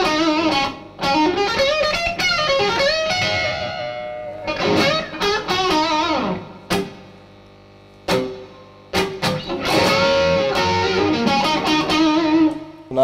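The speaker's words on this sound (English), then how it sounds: "a touch of spring reverb." An electric guitar plays chords and single notes with a splashy spring reverb, notes ringing and decaying between phrases, with brief pauses.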